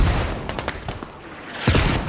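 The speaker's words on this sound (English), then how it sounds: "I hear AK fire to the northwest." Distant rifle fire in the video game Squad on an Afghanistan map: a scatter of faint, sharp cracks through the first second, then a louder pair of shots near the end, over steady ambient wind.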